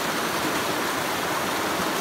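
A cold creek flowing close by, hikers walking right up its bed, gives a steady, dense rush of water with even broadband wash and no pauses.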